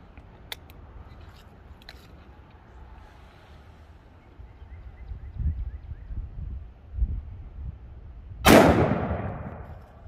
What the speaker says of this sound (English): All right, same round out of the 500 Smith & Wesson Magnum.